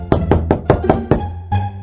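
Knocking on a door in the Minecraft video game, six sharp, evenly spaced knocks in quick succession, loud and close, followed by a short chime-like game tone.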